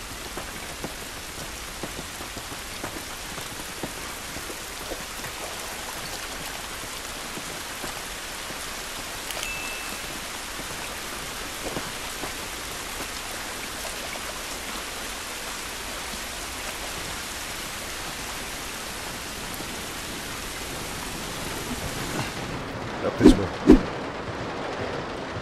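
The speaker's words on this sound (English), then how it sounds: "This rain ain't gonna do us any good." Steady rain pours outdoors in the video game The Last of Us Remastered, an even hiss of drops on surfaces filling the whole stretch, with a couple of sharper knocks near the end.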